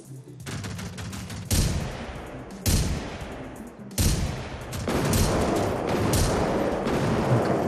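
Video game gunfire rattles off in dense bursts, with sharp loud onsets near 1.5, 2.7 and 4 seconds, then a sustained barrage that runs steadily to the end, with no talking.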